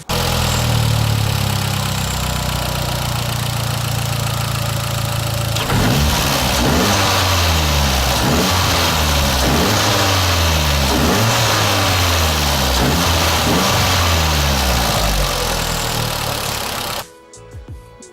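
A Vauxhall Corsa VXR fitted with a Pipercross panel air filter idles steadily, then is revved loud and close in a run of repeated rhythmic bursts for about eleven seconds before cutting off abruptly.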